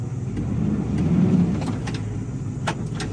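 A CDL Class B truck's engine revs steadily in drive while pulling against its engaged parking brake, a low continuous drone held throughout with a few faint clicks on top.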